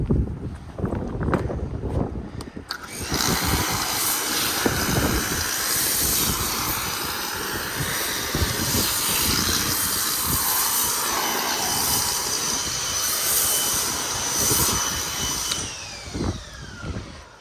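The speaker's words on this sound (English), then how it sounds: "spraying a little bit better now that the water's gotten through the pressure washer." An MJJC Foam Cannon S V3.0 on a pressure washer sprays thick foam onto a car outdoors on a windy day, giving a broad, steady hiss that holds for about thirteen seconds after a few brief bursts.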